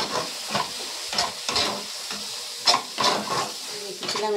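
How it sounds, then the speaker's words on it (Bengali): Ground cumin and other spices sizzle and are stirred in hot oil for a Bengali katla fish curry, with a steady crackling hiss broken by repeated scraping strokes of a spoon in the pan, close and moderately loud. "তেলটা দিয়ে ভালো করে মশলাগুলোকে কষিয়ে নেব।"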